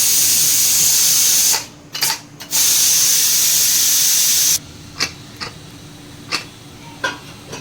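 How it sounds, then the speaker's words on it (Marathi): Steam hisses loudly from a cooking pot of biryani, most likely a pressure cooker, in two long forceful bursts broken by short gaps, then stops, followed by scattered clicks and taps. "आता याची वाफ काढू आपण."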